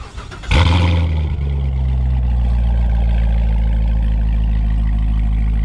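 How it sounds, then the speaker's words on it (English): A Chevrolet Corvette Grand Sport C7 fires up by remote start with a sudden loud crank and roar, then settles into a steady, deep, rumbling idle close by. "It does fortunately have remote start."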